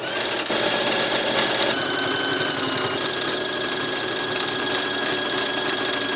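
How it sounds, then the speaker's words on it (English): A sewing machine stitches a denim waistband onto a denim skirt at a quarter-inch seam allowance, a steady, fast mechanical chatter running loud and continuous throughout with no talking. "I am going to sew this onto the skirt first"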